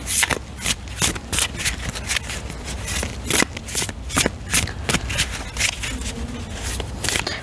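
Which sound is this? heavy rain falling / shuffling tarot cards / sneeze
shuffling tarot cards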